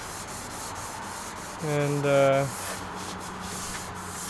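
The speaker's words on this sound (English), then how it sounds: "Aaron's busting his ass sanding on this thing." A car body is hand-sanded to prepare it for primer during a Silhouette Kaido racer build: a short, louder burst of rubbing about a second long stands out over steady background noise, and a voice briefly speaks.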